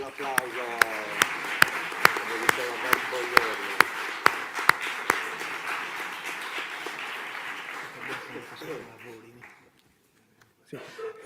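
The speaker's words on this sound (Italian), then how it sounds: "Un bel applauso." Audience applause welcoming a speaker to the table at an Italian cinema event in Sardinia, a dense steady clapping with sharp individual claps on top, tapering off after about nine seconds before a brief noise at the end.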